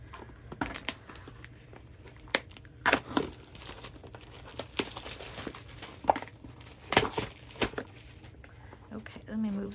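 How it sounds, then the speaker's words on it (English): A paper craft kit package being opened, with close bursts of paper crinkling and tearing spread irregularly through the clip, while someone talks quietly. "my new paper pumpkin kit just arrived and I have to open it up"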